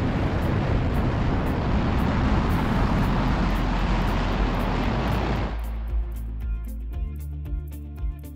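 A rocket lifts off on flames from its solid rocket boosters with a massive, rumbling roar that fades and thins toward the end.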